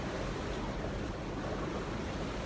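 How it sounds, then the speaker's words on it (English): Ocean waves rush and roar in a continuous broadband wash during an offshore sailing passage from Chesapeake to Bermuda in 30-knot winds, loud and close, mixed with wind buffeting and no talk. "The waves have picked up."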